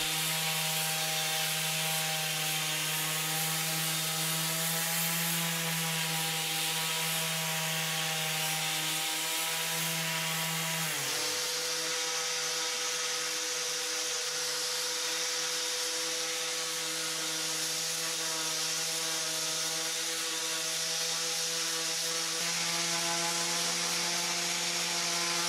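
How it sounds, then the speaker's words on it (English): An orbital sander scuff-sanding a wooden washstand, a loud continuous motor whine with a hissy abrasive rasp, holding steady for the full stretch with a slight pitch shift midway. "I gave this washstand an overall scuff sanding with my orbital sander."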